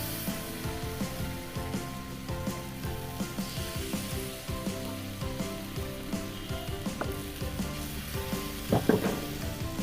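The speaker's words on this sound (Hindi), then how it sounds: "अब ये जो हमने मिल के मैरिनेशन की थी चिकन की, इसको अब हम ग्रिल करेंगे।" Marinated chicken sizzles as it grills in a hot pan on a stove, a loud, continuous crackling fry with pops and occasional stirring clatter, close and without speech.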